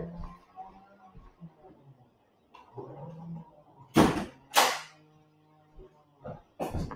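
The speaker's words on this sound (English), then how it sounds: "I'm just going to shut a door." A door is shut in a quiet room, giving two sharp, loud bangs close together. Faint background sounds come before the bangs and a softer knock follows them.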